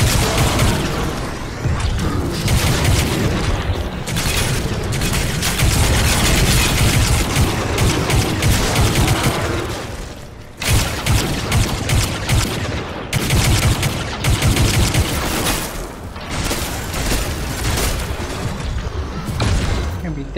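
Crysis 3 combat gunfire, loud and sustained: heavy automatic fire and booming blasts in dense volleys, with a short pause near the middle before the barrage resumes.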